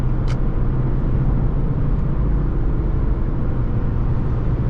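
A 2006 Infiniti G35X sedan with its VQ V6 engine drives at highway speed, a steady, loud broadband rumble of engine and road noise continuing throughout without a break.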